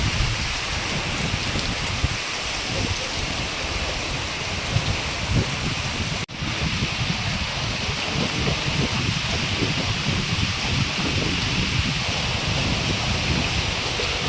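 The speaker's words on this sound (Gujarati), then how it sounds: "પવન સાથે વરસાદ ભાઈ જબરજસ્ત." Heavy rain pours steadily with gusting wind, a dense continuous hiss of drops on surfaces that stays loud and even throughout, with a brief dip midway and no voices.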